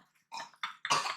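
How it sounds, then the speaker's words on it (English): Three quick throaty bursts in close succession, each louder than the last, sounding like a short burp or cough, close and alone. "Must you burp while I'm begging for subscribers?"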